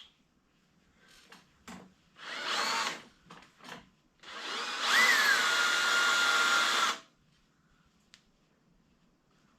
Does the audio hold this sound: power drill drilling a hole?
yes